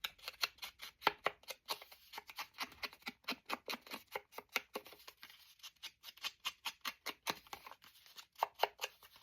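Scissors snip out paper pieces for journal decorating in a long, fast rhythmic series of close, quiet crisp cuts, with no talking.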